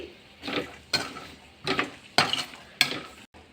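Chickpea prasadam with coconut and coriander for Navratri being stirred in a pan, five distinct scraping strokes of a spoon against metal with faint sizzle between them.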